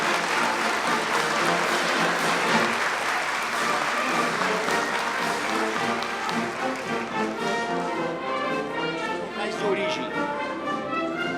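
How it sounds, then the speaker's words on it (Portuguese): Sustained, dense applause fills a solemn ceremony hall for medal recipients, loud and steady for most of the stretch, then thinning as a voice begins speaking near the end. "Uma salva de palmas para os agraciados."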